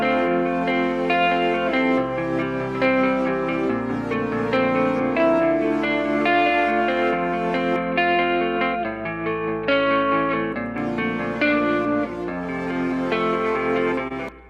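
A simple synth layer sits over double-tracked, distorted rock guitars panned left and right, forming a dense, sustained band texture that rolls through shifting chords for about fourteen seconds, loud and steady with no talking.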